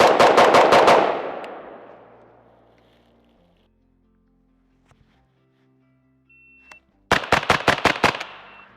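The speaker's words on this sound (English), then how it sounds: "I did managed to capture a little bit of video with it's on the suppress setting, and unsuppressed setting." Sig Sauer Spear LT 11.5 rifle fired both suppressed and unsuppressed: a fast, loud string of shots with a long echoing decay, several seconds of near silence, then another quick string of shots.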